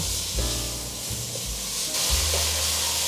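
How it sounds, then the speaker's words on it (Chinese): Enoki and shiitake mushrooms stir-fry in a hot pan with taro, giving a steady close sizzle and hiss broken by scraping stirs and low thumps from the spatula. "现在放入金针菇，继续快速的翻炒。"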